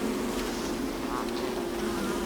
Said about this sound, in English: And there's also bees.